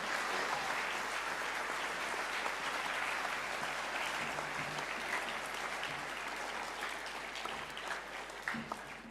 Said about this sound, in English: I think it's very appropriate at this time that we give him a round of applause